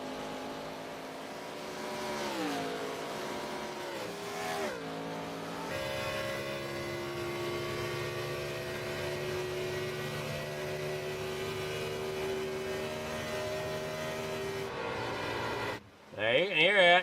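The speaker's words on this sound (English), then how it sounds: "When you're on the onboard, you can definitely hear them tires sliding." Race car tires squealing and sliding through a turn on an onboard view in a Pocono stock car racing video game, a sustained engine drone with long tonal tire squeal lasting most of the clip, with a brief spoken word at the end.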